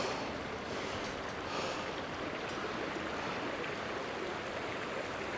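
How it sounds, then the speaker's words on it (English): A gently flowing river at Hebden Bridge gives off a steady broadband rush of water, continuous and fairly close, with no voices over it. "Gently flowing river"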